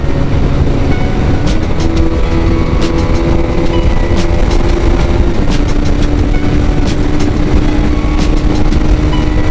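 A motorcycle carrying a passenger accelerates hard toward top speed, its engine a steady, loud, close drone with wind roar running unbroken throughout.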